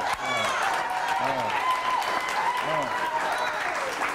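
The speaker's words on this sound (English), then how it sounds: "Are we supposed to be clapping?" Studio audience clapping and cheering in a garage set for a comedy cooking show, a steady wash of applause with voices calling out over it throughout.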